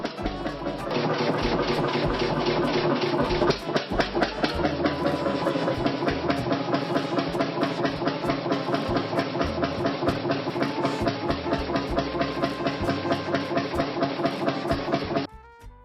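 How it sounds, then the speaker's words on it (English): Several century-old hit and miss engines with cast iron flywheels run together, giving a loud, dense, steady mechanical chugging with staccato firing beats layered over continuous rattling, sustained for about fifteen seconds before cutting off abruptly. "the signature aggressive and staccato rhythms of the hit and miss governors"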